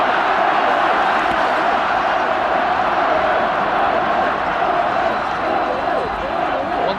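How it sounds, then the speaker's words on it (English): A large stadium crowd at the 1990 All-Ireland Senior Hurling Final between Cork and Galway, a steady, dense roar of cheering fans that holds at full volume throughout. "Once again the fans rallying and cheering both sides"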